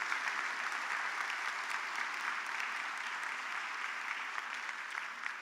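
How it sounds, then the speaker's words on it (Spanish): A church congregation applauds during a sermon, a steady, even wash of many hands clapping together, held at a moderate, somewhat distant level for the whole stretch. "Dale un aplauso al Señor"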